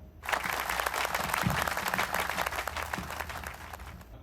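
A university conference audience applauds a student presenter, giving steady, dense clapping that lasts about four seconds before fading slightly.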